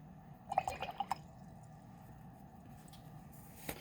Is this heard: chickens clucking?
no